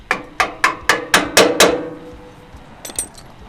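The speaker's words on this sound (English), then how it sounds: "it may take a little bit of force from a dead blow to pop that in" A dead blow hammer taps a reinforcement bracket onto the frame of a third-generation Toyota Tacoma during a winch bumper install: six sharp, evenly spaced close knocks, then a pause and two lighter taps.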